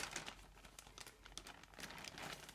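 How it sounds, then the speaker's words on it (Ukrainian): A plastic zip bag crinkles softly as it is sealed over a potted orchid, with quiet irregular rustles and crackles close to the microphone. "Тут такий зіп-пакет."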